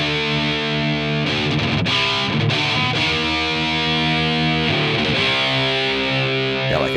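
Distorted electric guitar played through a Friedman amplifier set to its vintage presence, ringing sustained chords and short muted chugs at close, even loudness.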